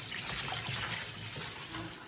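Fresh dill gets rinsed under a running kitchen tap, a steady close rush of water flowing without pause and easing off slightly toward the end.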